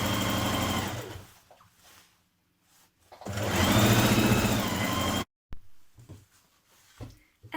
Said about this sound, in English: we're going to stitch that centre back seam, matching your notches as you go